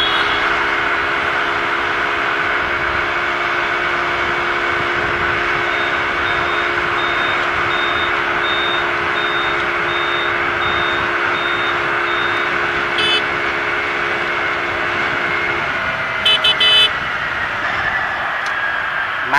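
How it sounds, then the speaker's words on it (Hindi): A TVS Scooty Pep+ scooter engine runs at full throttle at top speed with a steady, loud drone, wind roar and a faint repeating beep. "70 की स्पीड टच कर रही है, काफ़ी एक्सेलेटर खींच दिया मैंने।"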